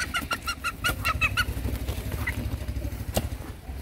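Several short, rhythmic clucks from a chicken in quick succession, fairly close, over a low background rumble, followed by a lone squawk near the end.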